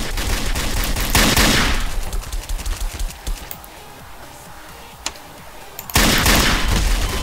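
Rapid gunfire erupts in the Garry's Mod DarkRP game, with a loud sustained volley at the start, sparse shots in between, and another dense burst near the end.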